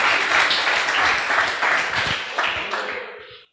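An audience applauds during a Portuguese-language church sermon. The clapping is dense and sustained, then thins out and fades over about three and a half seconds.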